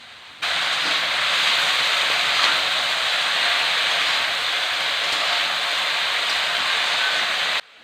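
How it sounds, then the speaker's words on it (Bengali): Cut and washed banana stem pieces hit hot oil with black cumin, setting off a loud, steady frying hiss that starts abruptly and holds evenly for about seven seconds before cutting off. "এর মধ্যে আমি এখন যে কলার থুরগুলো কেটে রেখেছিলাম ধুয়ে রেখেছিলাম সেটা দিয়ে দিচ্ছি দিয়ে একটু ভালো করে কষিয়ে নেব নাড়াচাড়া করে"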